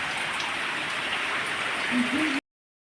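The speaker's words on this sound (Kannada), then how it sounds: "ಮಳೆ ಬರ್ತಾ ಉಂಟು ನೋಡಿ" Steady rain pours down, a dense even patter on surfaces, with a brief faint voice near the end before it cuts off.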